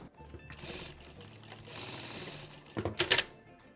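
A sewing machine stitches a denim handbag in a short rapid run, the motor whirring and needle clattering, then a few sharper mechanical clicks at the end.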